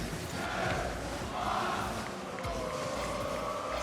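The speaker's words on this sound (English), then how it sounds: "you can hear the crowd anticipating when this ball will touch" A packed esports arena crowd at a world championship match roars in a sustained swell of voices, rising in bursts of anticipation, loud and continuous.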